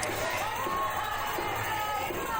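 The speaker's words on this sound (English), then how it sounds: "You can hear the crowd in the background. Well and truly getting behind the home side" A home crowd at a 2016 Gillies Shield softball final cheers and murmurs in the distance, a steady wash of voices beneath the foreground.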